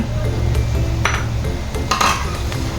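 Garlic cloves and galangal stir-fried together in a pan for a pork leg stew, with steady scraping and clinking of a utensil against the pan over a low continuous sizzle, two brighter metallic scrapes standing out.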